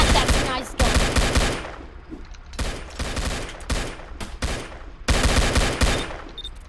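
Bursts of gunfire from a Roblox city game, with several rapid volleys and single shots spread over a few seconds. They are loud and sharp, with short gaps between bursts.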